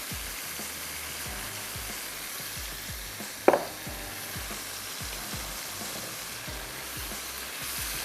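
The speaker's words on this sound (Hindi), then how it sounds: "गोश्त अब हमारा पका हुआ तो है लेकिन हमने इसको अच्छे से भूनना भी है।" Cooked beef fries in a pot with browned onions and turmeric powder, giving a steady, close sizzle with soft stirring scrapes and one brief clatter partway through.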